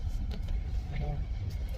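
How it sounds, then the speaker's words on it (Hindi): Steady low road rumble from inside a moving car, constant and fairly loud throughout, with faint voices underneath. "तो ये गाड़ी चला रहे हैं"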